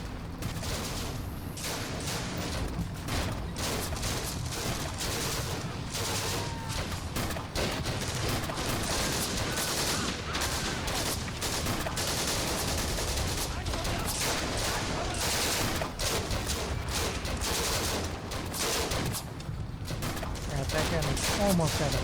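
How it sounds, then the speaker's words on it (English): Gunfire from an Italian anti-tank rifle in a Combat Mission: Afrika Korps battle at Gallabat, heard within dense, continuous volleys of shots and bursts that stay loud throughout, with a voice talking over the shooting. "Italian anti-tank rifle."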